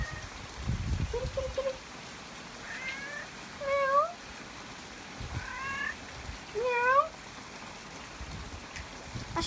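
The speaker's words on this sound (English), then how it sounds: "Kitty! Kitty, kitty, kitty. Meow." A cat meows repeatedly outdoors in the rain, several distinct rising cries spaced a few seconds apart over soft steady rainfall, with a brief low rumble of handling noise near the start.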